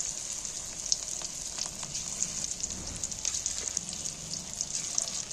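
Fish pieces, thin belly cuts and thick round steaks for chilli fish, fry in hot oil with a steady, close, crackling sizzle that holds at an even level throughout, with no voices.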